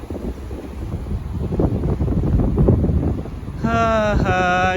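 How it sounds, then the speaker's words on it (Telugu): Strong wind buffets the microphone in gusts near the Muktinath temple in Nepal, rumbling low and loud, before a tonal humming or singing voice comes in at the end. "ఏమి గాలి"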